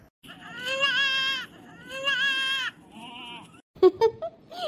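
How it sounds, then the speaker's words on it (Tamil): Two young goat kids bleat in a village setting just after drinking milk: two long, wavering, high cries, then a softer call and a few sharp, shorter bleats close by. "சோனி இந்த 2 ஆட்டுக்குட்டியும் பத்தியா? பாலை குடிச்சதும் எப்படி சந்தோஷமா துள்ளி குதிச்சு ஓடுதுன்னு பாரு."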